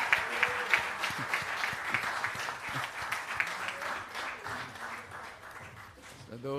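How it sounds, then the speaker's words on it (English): Conference audience at a Jamaica 60 diaspora launch event applauds with many overlapping claps, moderately distant and fairly soft, gradually tapering off toward the end. "Can we have a resounding round of applause for our legacy partners, please?"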